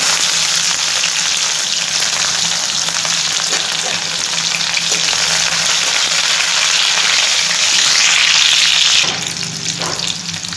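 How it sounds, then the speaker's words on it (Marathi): Green chili pieces fry in hot oil for sabudana khichdi, a steady loud sizzle running without pause and swelling briefly near the end before easing off. "आता आपले तेल गरम झाले आहे त्यामध्ये आपण टाकूया हिरव्या मिरची तुकडे"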